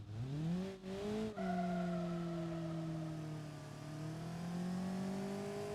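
An old, smoking beater car's engine runs in a driving video game, a steady droning hum with a brief rev and pitch shift early on, then settling into a continuous even tone, with no one talking.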